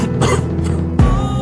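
A couple of rough, throaty coughs, close and fairly loud, with a low rumbling background underneath.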